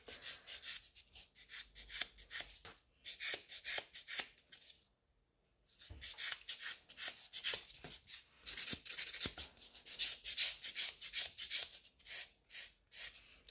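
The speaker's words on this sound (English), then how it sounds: "So that's me filing a little bit" Filing natural nails with a nail file gives quick, close, rhythmic raspy strokes in bursts, with a short pause midway and no talking.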